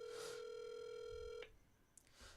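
A telephone rings out on a call, a single steady electronic tone held for over a second and then cut off, followed by faint clicks and quiet.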